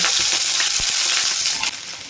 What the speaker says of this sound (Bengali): এর মধ্যে আমি দিয়ে দেব ফুলকপি। প্রথমে আমি ফুলকপিটা ভেজে নেব।